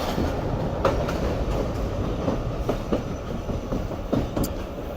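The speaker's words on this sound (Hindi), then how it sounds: "तो जी दोस्तों फाइनली ट्रेन हमारे इस वक्त अप्रोच बना रही है ढाबे जी रेलवे स्टेशन पर।" Sukkur Express passenger train at night approaching Dhabeji railway station, a continuous rumbling rattle of carriages with repeated clickety-clack wheel beats and a brief high squeal near the end.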